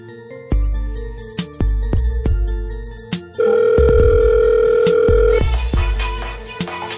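A telephone line gives a dial tone and a steady ringback tone while a call is placed. Sharp, loud tones repeat in regular bursts, then a long sustained tone runs across the middle.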